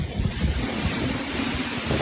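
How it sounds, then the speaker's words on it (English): Strong wind roars steadily outdoors near a waterfront, buffeting the microphone with continuous low rumbling gusts and a broad hiss, loud and unbroken throughout with no talking. "Oh, that wind is picking up."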